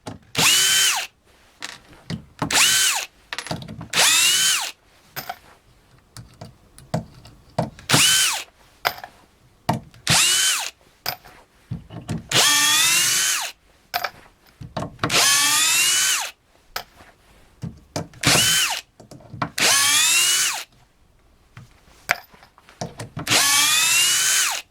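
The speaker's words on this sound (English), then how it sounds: "I'll just put it on drill and I'll take out all of these screws" A Metabo PowerMaxx BS 12 cordless 12V drill/driver backing out screws, about fifteen short whirring bursts of the motor, close and loud, separated by brief pauses, alone without speech.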